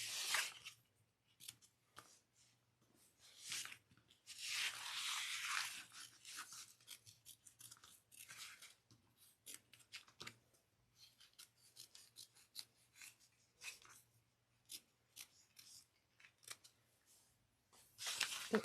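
Scissors snip and rasp through fabric around a zipper opening while a handbag is being sewn: a quiet, close series of short cutting crunches in irregular bursts, with no talking.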